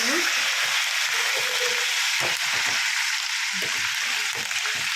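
Curry leaves and green chillies frying in a pan, a loud dense crackling sizzle that fills the whole stretch, close and steady, with a low voice and soft handling sounds underneath.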